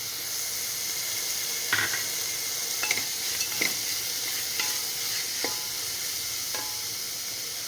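Green peas sizzle in a pan with onion and green chilli for white pulao, a steady frying hiss broken by several scraping stirs of a spoon, close and alone.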